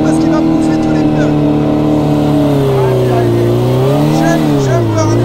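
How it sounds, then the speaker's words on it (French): A car held in a hard drift on a training course, its engine revving high and loud while the spinning wheel screeches in long, wavering tones that dip and rise. People talk over the noise. "la roue elle tourne à mort, ça fait du bruit"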